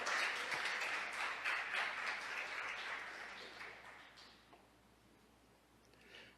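A church congregation applauds in a dense, steady burst of many hands that gradually thins and fades to near silence, with a few scattered claps at the end.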